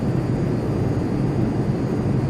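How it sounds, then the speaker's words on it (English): An F-15 jet in Flight Simulator X at full military power without afterburner gives off a steady, loud, unbroken engine roar that holds an even level throughout, with no talk. "We'll throttle up as much as I can. Full military power without afterburner."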